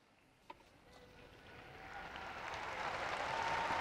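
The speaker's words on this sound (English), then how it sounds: "The crowd reacting now to having received the Holy Father's blessing." A large outdoor crowd at the Pope's Sunday Angelus applauds after receiving his blessing, the broad wash of clapping swelling steadily from faint to full over a few seconds, distant and diffuse.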